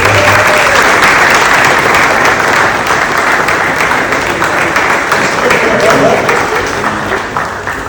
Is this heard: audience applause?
yes